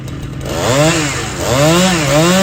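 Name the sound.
chainsaw cutting trees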